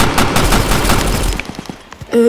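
Rapid volley of gunfire in a Roblox video game, a dense burst of shots for about a second and a half that thins into scattered single reports before a short tone near the end.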